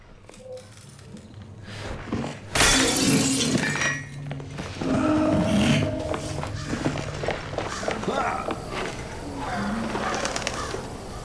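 Glass window smashes in Hello Neighbor 2, one sharp loud crash of breaking glass followed by footsteps, rustling movement and bird-like chirps in the game scene.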